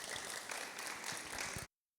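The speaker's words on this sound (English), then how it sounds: "So warm round of applause for Zining" An audience at an orchid-themed talk event breaks into applause, a brief, soft wash of many hands clapping at a distance that cuts off abruptly.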